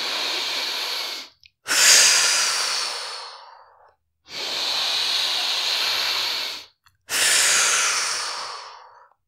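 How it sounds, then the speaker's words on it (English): Slow, deep breaths drawn in and pushed out near the mic, four long airy inhales and exhales of about two seconds each, separated by short pauses, with no talking. "to take 1 or 2 breaths like this"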